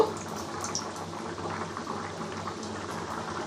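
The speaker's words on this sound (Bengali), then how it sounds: "এটা ভাজার জন্য আমি সাদা তেল দিয়েছি গরম হয়েছে" Paneer pieces deep-frying in hot white oil, a dense bubbling sizzle that holds steady and close throughout, fairly quiet, with no talking.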